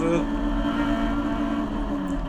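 Rally car engine held at full throttle on a KJS Przemyśl stage, a loud continuous roar with little change in pitch, and someone talking over it.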